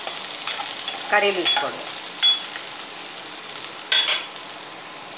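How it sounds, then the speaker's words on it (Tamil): Green chilies frying with onions in a pan for a Tamil kudal (goat intestine) varuval, a steady hiss broken by a few louder sputtering crackles and occasional stirring. Someone speaks briefly over it. "சில்லியை போட்டுருவோம். கொஞ்ச நேரம் ஃப்ரை பண்ணவும்"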